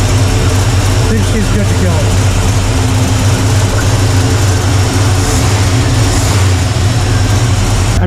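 A carbureted engine, either a Pontiac LeMans or a Chevy C10, idles smoothly after carburetor tuning, a loud steady low rumble that holds even throughout, with someone speaking over it.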